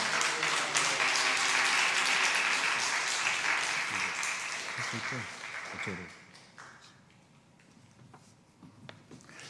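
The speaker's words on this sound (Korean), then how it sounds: "우리 할렐루야로 박수로 맞아드리겠습니다." A church congregation applauds during a Sunday morning service, a full sustained burst of clapping that fades out over several seconds, followed by quieter room sound and light speech.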